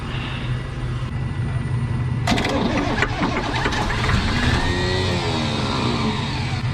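A 1980 International Scout diesel engine cranks and catches, then runs roughly and revs under throttle, loud and close, with a steady low rumble throughout.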